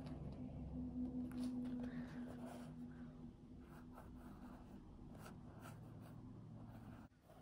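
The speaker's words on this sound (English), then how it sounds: "I'm just gonna draw lines to see where my border will be." Pencil lines drawn across a canvas, soft scratchy strokes rasping in short runs over a steady low background hum, quiet and close.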